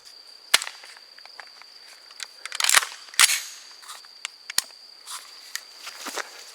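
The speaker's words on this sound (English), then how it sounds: "from our rifle is going to be the 556 cartridge" A 5.56 rifle fires at a concrete block outdoors, producing a few sharp, sudden cracks over a constant chirping of crickets and insects.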